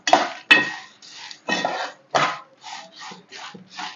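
Tamarind being dry-fried and stirred in a pan, a series of scraping strokes of a utensil against the pan at an irregular rhythm, close and fairly loud, about nine strokes with no voices.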